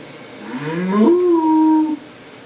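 A single long moo from a cow, rising in pitch and then holding steady for about a second before cutting off, loud and close.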